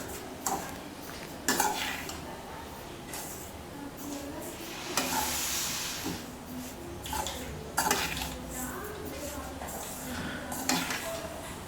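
Sathu mavu ingredients are being dry-roasted in a pan, with a spoon scraping and clinking against the metal at an uneven rhythm over a faint continuous sizzle-like hiss, all heard close up.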